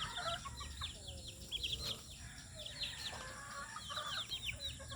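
A lame rooster among chickens clucks and chirps in repeated short bursts over steady outdoor background noise, with a faint voice low in the mix.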